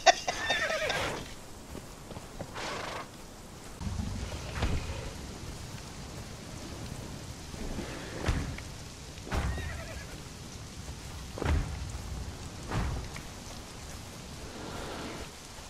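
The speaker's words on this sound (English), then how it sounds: "That poor horse." A horse in the video game Conan Exiles neighs loudly at the start, with later whinnies and hoof clops over a steady rain-like wash of background ambience, without talk.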